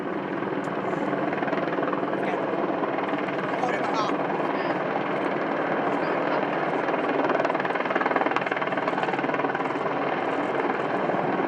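A military helicopter holds a high hover at an international air tattoo, its broad, even rotor and turbine roar filling the air continuously at moderate distance while a commentator's voice talks over it.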